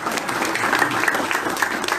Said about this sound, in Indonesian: Ya tepuk tangan dulu dah.